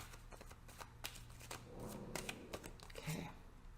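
A deck of tarot cards being shuffled up close, quick repeated riffling bursts in a short run, with a quiet voice now and then.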